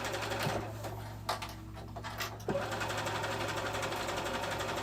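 Sewing machine zigzag stitching fabric for a summer muumuu dress, a quiet rapid mechanical whir with a couple of brief pauses and restarts.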